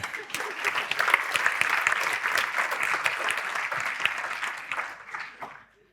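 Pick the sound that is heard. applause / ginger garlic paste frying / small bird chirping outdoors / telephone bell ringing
applause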